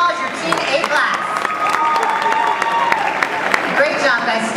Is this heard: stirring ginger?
no